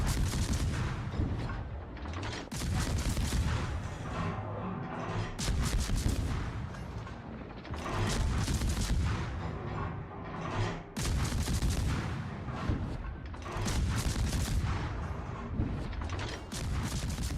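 Warship guns in World of Warships fire in heavy, loud salvos, repeated booming blasts and rattling mechanical clanks that recur every few seconds over a constant rumbling battle bed, with no talk.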